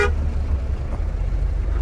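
A van's horn gives one short, sharp honk at the very start, then a low engine rumble continues on its own.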